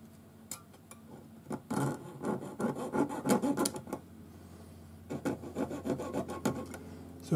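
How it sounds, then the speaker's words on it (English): A jeweler's saw cuts metal jump rings held on a mandrel, making close, quiet rasping strokes in two bursts of rapid back-and-forth sawing with a brief pause between. "otherwise it'll bend every one of these jump rings as you go to saw it"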